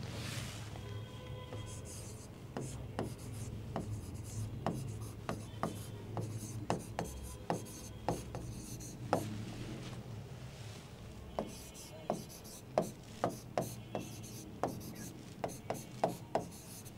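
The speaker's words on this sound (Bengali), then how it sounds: "ফার্স্ট আমরা লিখে নিই" Hand-writing a maths problem, with repeated short pen or pencil strokes scratching on paper in an irregular rhythm, fairly close and quiet, with no talking.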